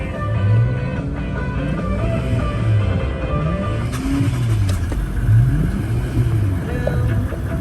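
A 2017 Toyota Landcruiser GXL cab-chassis 4x4 ute starts and settles into idle, a loud, close, steady engine rumble with a few small rises in revs and no talking.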